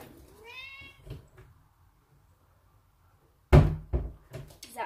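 A cat meows once with a rising, stretched cry near the start, then silence, followed by thuds and knocks like a door or cupboard closing.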